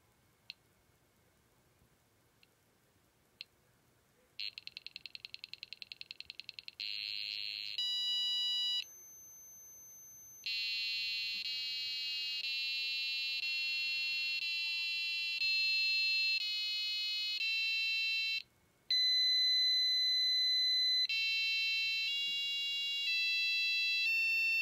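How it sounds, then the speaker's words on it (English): A few faint clicks, then a small piezo buzzer driven by an Intel 8051-family microcontroller beeps out a rapid sequence of shrill electronic tones, changing pitch in quick steps with brief gaps. "I've got a little piezo buzzer hooked up to it."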